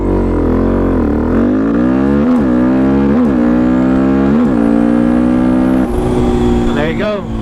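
A Suzuki DRZ400 motorcycle fitted with an FCR39 carburetor pulls hard on a 0 to 60 run, its engine rising in pitch through several gear changes before easing off near the end, loud and close throughout.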